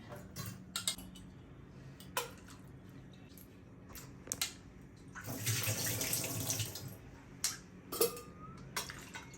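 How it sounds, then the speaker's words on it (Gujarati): Chopped potatoes rinsed under a running kitchen tap, water splashing and trickling with a louder gush midway and scattered clatters of potato pieces and a bowl, fairly close. "3 વખત આ બટેટાને તમારે સમારેલા બટાકાને ધોવાના છે"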